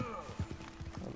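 Horse hooves clip-clopping in the video game Red Dead Redemption 2, a quick run of soft, close hoofbeats in a short burst with game ambience underneath.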